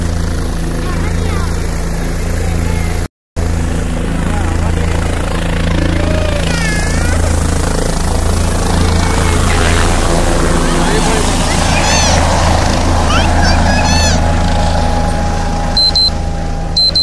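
A helicopter arrives to land at a large open site in Vemulawada, its steady engine and rotor drone running loud and continuous throughout, with crowd noise and people talking alongside.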